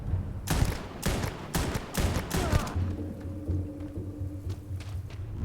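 A semi-automatic gun in the sci-fi game Starfield fires a quick string of about six separate loud, close shots, then the firing stops and a low ambient hum carries on, with no talking.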